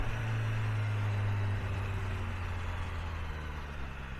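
BMW S1000 R motorcycle being ridden, a steady loud low engine drone with a strong low hum through the first part that eases slightly, wind rush continuing throughout with no talking.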